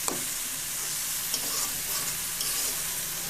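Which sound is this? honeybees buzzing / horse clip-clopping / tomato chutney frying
tomato chutney frying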